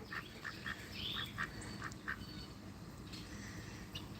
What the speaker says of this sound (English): The one quacking right now